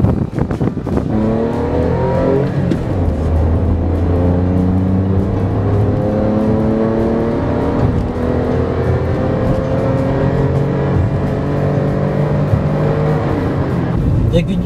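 A 2014 Toyota Aygo 1.0 VVT-i three-cylinder accelerates hard through several gears, the engine note climbing steadily and dropping at each shift, loud and close from inside the cabin, with a voice talking over it throughout.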